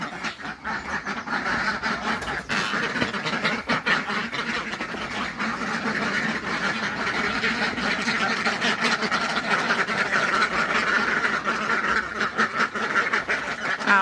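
Ducks on a duck farm quack continuously, many birds at once, a busy steady chorus at close to moderate distance with no talking.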